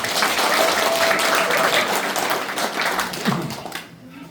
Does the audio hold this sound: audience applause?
yes